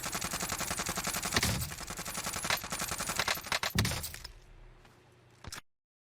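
Rapid video game gunfire from a competitive shooter, a dense run of sharp cracking shots for several seconds, then a quieter tail with a final burst before cutting to silence.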